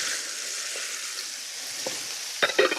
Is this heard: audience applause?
no